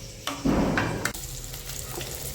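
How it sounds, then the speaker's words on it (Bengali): Pieces of katla fish fry in oil, a short close sizzle with a sharp burst of crackling early on that settles into a softer steady hiss. "মাছগুলো বেশ লাল করে ভাজা হয়ে গেছে,"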